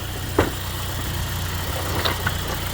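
A 2014 Ford Escape with a turbo leak idles steadily in drive while the brake is held, a low, even engine drone with a couple of faint clunks, close by.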